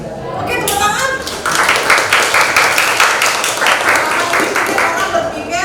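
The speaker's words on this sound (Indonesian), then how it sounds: "Oke, tepuk tangan." Classroom applause of quick, scattered hand claps from a roomful of students, fairly loud and continuous, with voices mixed in underneath.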